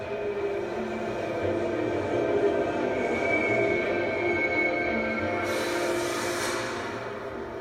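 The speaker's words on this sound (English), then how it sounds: "Don't miss your train, Miss Barnes." A train running on rails, a steady loud rumble of wheels with faint metallic squeal and rattling carriages, continuous throughout and briefly brightened by a hiss near the end; no voices.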